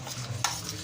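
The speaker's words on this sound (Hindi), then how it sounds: "अब चम्मच की मदद से हम मिक्स कर लेंगे" A spoon briefly stirs and scrapes through a spice marinade for fish fry, giving a short, faint, wet mixing sound with one sharper clink against the bowl, and no talking.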